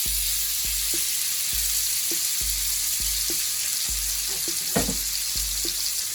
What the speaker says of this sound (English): I have my frying pan on here. I'm gonna put my pork in and start cooking it.